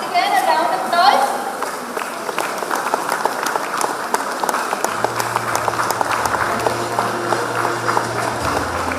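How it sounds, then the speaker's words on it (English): An audience claps for models at the Vanijya Parivartana 2025 international conference. The steady, fairly loud applause continues throughout, with talking and a low humming tone in the background. "Can beautiful models once again a round of applause?"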